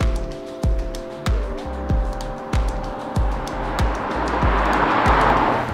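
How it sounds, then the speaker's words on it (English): The 2-liter engine of a 2022 Audi Q3 45 TFSI quattro small SUV revs up through a series of quick gear shifts, each rising pitch cut off by a short drop, loud and close throughout. "this 2-liter revs quickly, its power is just fine, and it's kind of noisy too"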